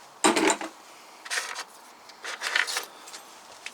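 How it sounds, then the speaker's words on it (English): A bunch of old keys recovered by magnet fishing jangles and clinks in close, distinct bursts, with a sharp rattle at the start followed by several softer shakes, no voices present. "all these keys here."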